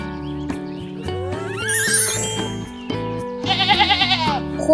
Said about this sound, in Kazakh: Қой.